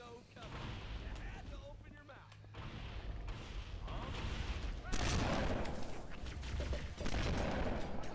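Dense gunfire and heavy explosive booms from the Halo: Combat Evolved video game with a cursed mod, a loud sustained barrage building in intensity, with a voice speaking over it.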